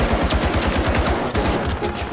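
Rapid, rhythmic pistol fire in the video game The Finals, a fast string of sharp shots at an even pace, loud and close, sounding almost like automatic fire.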